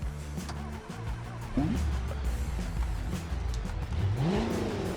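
A big V8 pickup truck engine in a driving video game revs up and down in rising and falling sweeps, a loud, close engine note that swells twice.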